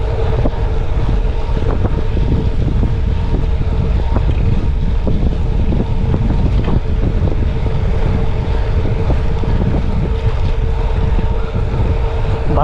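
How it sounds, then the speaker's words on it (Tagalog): Strong wind roars and buffets the microphone during a gravel bike ride in Rizal toward Laguna on a Sunpeed gravel bike, producing a loud, constant low rumble with no break throughout. "Alakas ng hangin, grabe."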